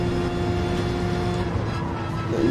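Race car engine drone in GT Sport, a steady, close, sustained whine with a slight rise near the end and no talking.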